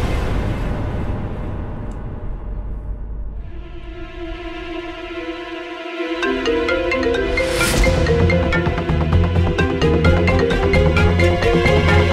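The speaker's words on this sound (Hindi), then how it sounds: "pick up the phone, pick up the phone." A phone ringtone plays a repeating electronic melody, fading in after a low rumble and growing louder and fuller.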